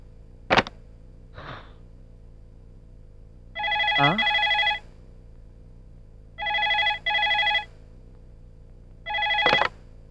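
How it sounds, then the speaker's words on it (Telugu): A telephone rings three times in clear, evenly spaced double bursts, fairly close and alone, with a few faint brief sounds in the quiet before the ringing starts. "యాదవ్ ఫోన్."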